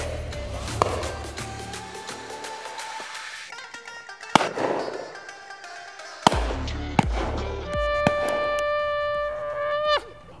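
Shotgun fire at a British driven pheasant shoot, several sharp separate bangs spaced a few seconds apart, each followed by a fading ringing tail, with no talking.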